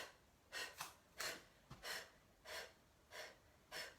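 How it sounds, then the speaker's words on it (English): Series of sharp, breathy exhales during a pelvic floor and abdominal breathing exercise, about seven short forceful puffs in a steady rhythm, close and fairly quiet with no talking. "So you can take those sharp exhales,"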